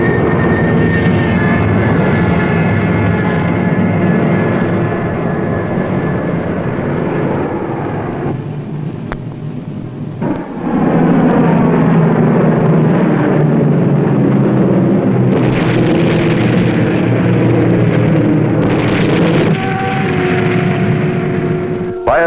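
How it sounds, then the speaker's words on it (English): Three British warplanes attack the U-47 submarine, a loud continuous propeller-engine drone that swells and shifts in pitch as the aircraft pass overhead, with no voices. "3 British planes attacked before Prien could submerge"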